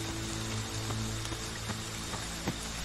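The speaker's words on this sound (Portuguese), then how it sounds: "Chuva torrencial, escuridão." Heavy torrential rain in the Friday the 13th video game, a steady dense hiss with faint pattering drops and a low tonal hum beneath, fairly quiet and continuous with no talk.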